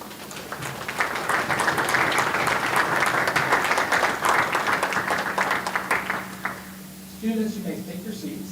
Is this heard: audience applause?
yes